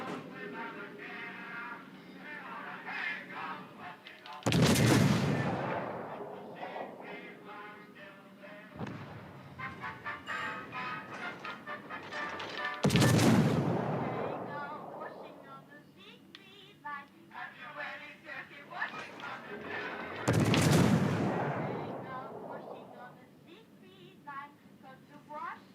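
Warship guns in World of Warships: Legends fire three heavy booming salvos, each a loud deep blast with a rolling tail, spaced about eight seconds apart, with players talking between them.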